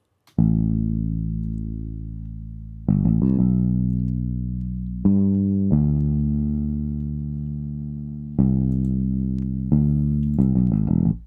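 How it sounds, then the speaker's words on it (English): A Kontakt bass patch plays a slow line of deep, sustained notes, each struck cleanly and decaying over a couple of seconds, with a quick pair of notes near the end, alone and up close. "So to complement that, I came with a bass that I found in Contact."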